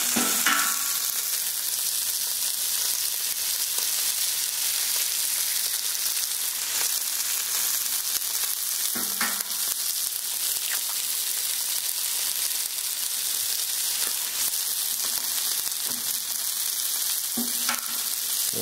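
Eggs fry on a Camp Chef flat top griddle with a steady, dense sizzle that holds nearly constant throughout, broken now and then by brief scraping or tapping sounds, with no talking.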